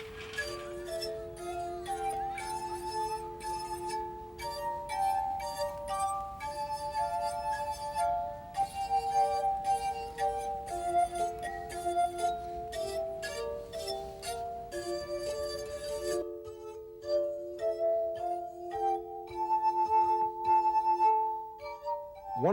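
A glass harp made of ordinary drinking glasses plays the melody Song of Hope (Hatikva), with sustained, ringing, pure tones overlapping in slow chords and a clear tune on top, close and steady, without speech.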